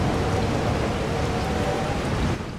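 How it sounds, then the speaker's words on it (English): Heavy rain pours steadily in the Resident Evil 4 video game, a dense, loud, unbroken hiss of downpour with a low rumbling undertone, dipping slightly at the very end. "Holy crap, it's become a dark and rainy day."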